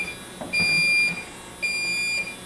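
A Yellow Jacket AccuProbe II refrigerant leak detector, set for R22 at 500 parts per billion, sounds two sustained high electronic beeps, each about half a second long, with a short gap between them. The beeps stand out clearly over faint background noise.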